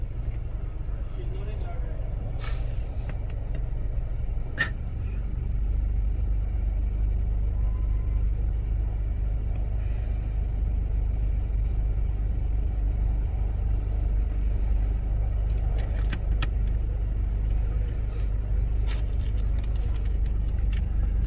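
Off-road cars crawl over obstacles on a 4x4 track, heard as a steady low engine rumble at a distance while people talk nearby, with a few faint knocks and clicks over the drone.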